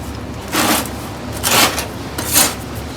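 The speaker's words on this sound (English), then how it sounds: "It's real simple to just take your cutoff wheel" A cutoff wheel marks lines on the tail panel metal of a 1970 Dodge Challenger, three short abrasive grinding scrapes spaced about a second apart, close and loud.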